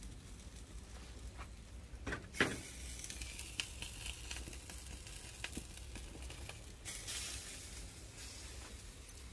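Meat sizzles and fries in a pan, a steady crackling hiss with a few sharper pops and stirring scrapes, moderately close and with no talking.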